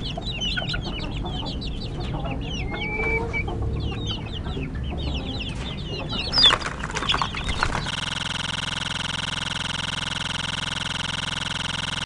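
Young fancy hen chicks and chickens, including Aseel and Heera breeds, cluck and chirp in a busy chorus on a Pakistani poultry farm, with a brief clatter near the middle before the sound gives way to a steady electronic hum.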